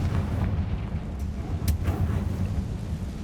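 A Confringo blast spell cast in Hogwarts Legacy, a dense rumbling explosive burst with a sharp crackle near the middle, loud and close over a heavy low roar, no talking.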